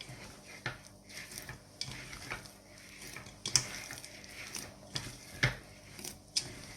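Sourdough dough (lievito madre with cumin) folded by hand in a bowl: soft, irregular wet slaps and squelches, close and quiet, with no voices.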